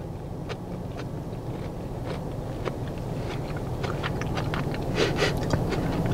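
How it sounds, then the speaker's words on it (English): Corned beef hash with undercooked, raw potatoes is chewed up close, producing a steady run of soft crunches and sharp little bites that grow slightly louder toward the end. "Can you hear that crunching? The potatoes are raw in the corned beef hash."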